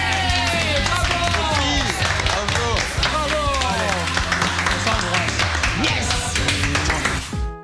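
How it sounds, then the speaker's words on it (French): Dinner guests applaud one another at the end of a week of hosted dinners, loud close clapping mixed with cheering, laughter and talk, fading out at the end. "je propose qu'on s'applaudisse"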